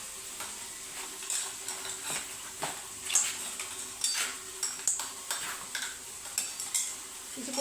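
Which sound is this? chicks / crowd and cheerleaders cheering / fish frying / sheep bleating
fish frying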